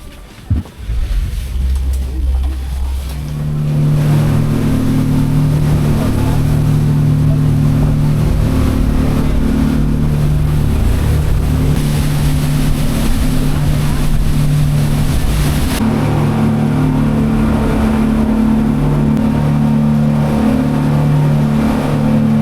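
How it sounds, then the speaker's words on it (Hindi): Ferry boat engine on the crossing to Nusa Penida, Bali: a loud, steady droning roar that settles in after a short start, heard close from on board with rushing wind and water noise throughout. "So this is a boat from which we are traveling to Nusa Penida."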